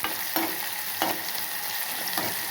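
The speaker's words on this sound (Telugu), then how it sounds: "కొంచెం టమాటోసు, కొంచెం కొత్తిమీర, ఇవన్నీ ఇక్కడ ఫ్రై అవుతుంటాయండి." Tomatoes and coriander frying in a pan for coconut chutney, a steady close sizzle broken by a few soft stirring scrapes, with no voices.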